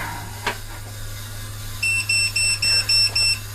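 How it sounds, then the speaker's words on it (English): A Kaleido M2 coffee roaster sounds its charge-temperature alarm, a series of six short, bright electronic beeps in an even rhythm over a low steady machine hum. "it's now giving an alarm to charge the bean because it already reached the set value or our desired charge temperature"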